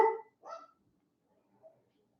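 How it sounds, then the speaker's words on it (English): Two short, sharp dog barks close by in quick succession, then a faint brief sound after a pause of quiet. "It's fine that they're barking"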